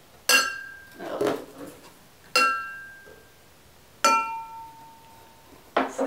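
Pub drinking glasses clink as they are unboxed, four separate bright ringing chimes spaced a second or two apart, each tone decaying slowly, close and clear with no talk.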